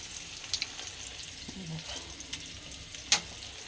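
Chicken pakoras sizzle steadily in hot oil at close range, with occasional louder crackles and pops and a brief clink of a utensil.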